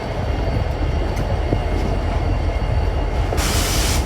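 A BNSF freight train rolls along the rails in a steady, continuous low rumble with faint wheel squeals and clatter. It stays loud and close throughout, and a burst of hiss comes in near the end.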